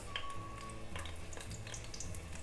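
Jackfruit (katahal) sizzling in hot ghee for a curry, a steady moderate crackle and hiss with small clinks and stirring noises throughout, no talk.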